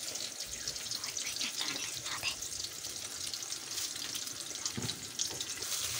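Mustard seeds, cumin and urad dal fry in hot oil in a home kitchen pan, giving a constant bright sizzle with scattered crackles and pops, close and steady, with no talking.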